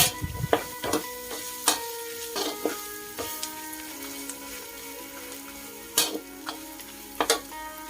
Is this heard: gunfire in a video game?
no